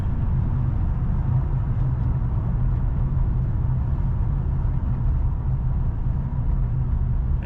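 A 2011-2017 Hyundai Elantra with a crankshaft position sensor problem drives along, its engine and transmission making a steady low rumble with road noise and no clear break at the downshift.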